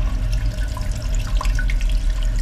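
Water rushes and trickles steadily as a toilet cistern refills, a close, continuous splashing flow with no talk.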